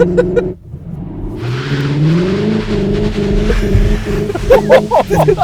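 A Cupra Leon Sportstourer e-Hybrid engine revs up loudly and close, its pitch climbing steadily as it accelerates, with a brief voice at the start and end.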